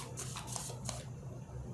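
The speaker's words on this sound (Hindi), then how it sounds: "मैं लास्ट 2 कार्ड्स और निकालूंगी" Tarot cards are drawn from a deck during a reading, a few brief papery swishes and slides close by over a low steady hum.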